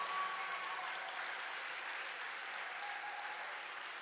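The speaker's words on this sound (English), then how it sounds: "Can we give them a big round of applause?" Audience applause for a live band at an evening concert, a steady wash of clapping that holds at an even level throughout with no talking over it.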